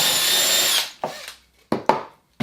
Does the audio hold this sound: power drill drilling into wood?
yes